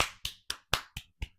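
Six sharp hand claps in an uneven rhythm, close and fairly loud, each one ringing briefly before the next.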